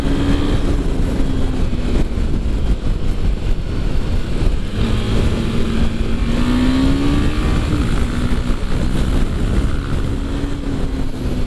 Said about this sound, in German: Man sieht, ich muss dem kleinen 373 Kubikmotor leider alles abverlangen